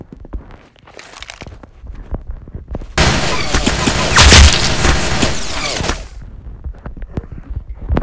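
Micro Uzi fire in the Roblox game Arsenal comes as one sustained rapid burst lasting about three seconds, loud and close, preceded and followed by lighter footsteps and scattered game clicks, with no speech.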